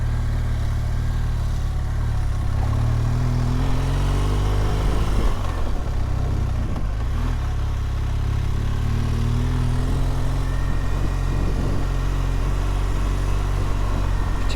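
Motorcycle engine held under throttle on a Lake District mountain pass, a loud, continuous low drone that rises and falls slightly in pitch as the bike climbs, with wind rush over it.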